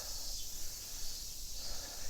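Cicadas buzz in a steady, high, unbroken drone on a breezy summer day in Matsudo, heard faint and distant from a bike ride with wind rushing across the mic.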